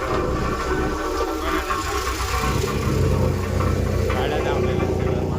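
Road roller working on road construction at night, its engine a steady mid-pitched rumble with clattering machinery beneath, continuous and fairly close, while voices talk over it.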